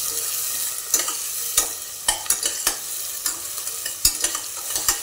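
Rice masala mixture with pavta beans being stirred in a hot oiled pan, a steady background sizzle broken by a dozen or so sharp scraping spoon strokes at an uneven pace, close and alone.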